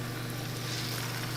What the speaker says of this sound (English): Now we're getting a little sizzle.